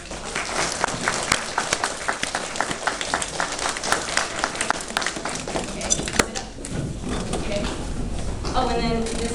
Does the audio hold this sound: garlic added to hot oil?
no